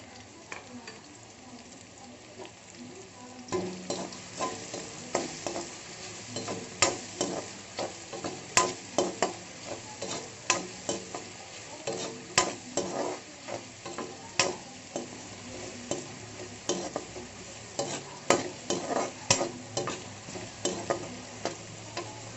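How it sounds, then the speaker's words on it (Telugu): Chopped onions and green chillies sizzle in a pan, a steady frying hiss punctuated by a rapid, irregular series of close scraping strokes from stirring, with no talk. "ఉల్లిపాయ బాగా వేగింది."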